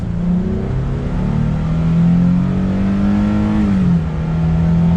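A 2022 Nissan Frontier Pro-4X pickup truck engine revs up under near-full throttle, its droning pitch climbing steadily, dipping briefly as a gear shifts, then pulling on strongly.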